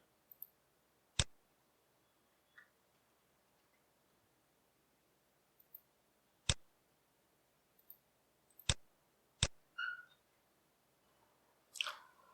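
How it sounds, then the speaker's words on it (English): A computer mouse double-clicks a save button while a C# program is being built, giving a few sharp, close, isolated clicks spread over a quiet background with no talking. "So I'm double clicking it."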